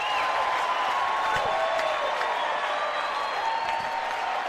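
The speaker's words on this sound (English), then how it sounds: "Listen to this crowd as he goes up, extends" A large crowd at an NCAA baseball regional final roars and applauds as an outfielder robs a home run, a dense, sustained wall of cheering with whistles, heard from the stands at a distance.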